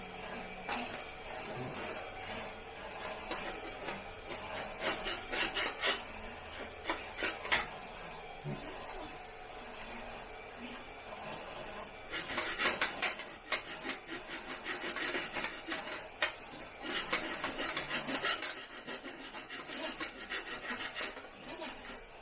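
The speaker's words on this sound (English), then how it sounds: "we're just going to slowly open up these two holes so that they just click over the top of these tabs" Small file enlarging holes in a styrene R2-D2 kit frame, soft close rasping strokes in repeated bursts separated by pauses, fairly quiet throughout.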